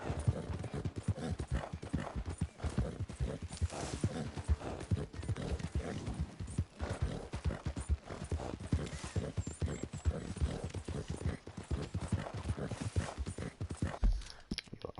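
Horse hooves clip-clop steadily and continuously in Red Dead Redemption 2, a brisk rhythmic trotting that carries through the whole stretch with faint background ambience and no talk.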